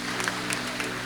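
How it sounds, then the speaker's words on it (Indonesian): An audience at an Indonesian church gathering gives brief, steady clapping, a dense crowd sound lasting about a second. "kita beri tepuk tangan"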